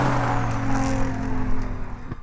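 A Nissan R32 GTR and a Subaru Impreza launch side by side in a drag race, engines roaring loudly and steadily before one sharp shift-like thump near the end.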